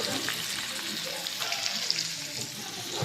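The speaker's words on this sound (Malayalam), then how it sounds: "അങ്ങനെ ചിക്കൻ ഫ്രൈ ആയിക്കൊണ്ടിരിക്കുകയാണ്." Chicken frying in oil in a pan on a home stove, a dense, even hiss of bubbling oil that holds steady throughout, close by, with a brief faint murmur of background sound.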